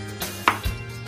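A few sharp knife strikes chopping garlic cloves against a cutting board, irregular and close, with quiet pauses between cuts.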